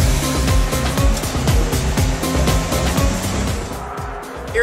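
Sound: sports cars on track at Dubai Autodrome

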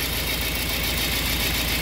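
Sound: Toyota Corolla engine running on two cylinders

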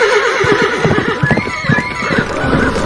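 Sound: horses approaching and neighing, audiobook sound effect

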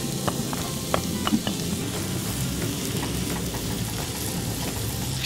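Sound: onions frying in butter in pan

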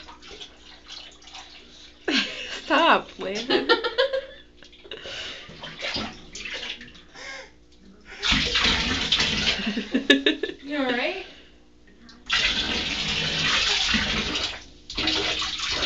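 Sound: water splashing in a bathtub

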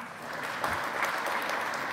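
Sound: audience clapping to vote on fake image

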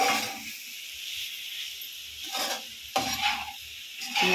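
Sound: masala sautéing in a pan

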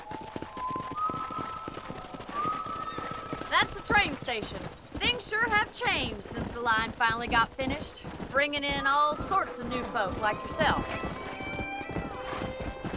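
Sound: horses neighing and hooves clip-clopping in Red Dead Redemption video game

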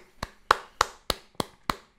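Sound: presenter clapping for Azucena

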